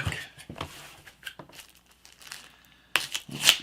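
Shrink wrap on board game pieces crinkles and tears in close, irregular bursts, with quiet handling rustles between louder crackling rips near the end.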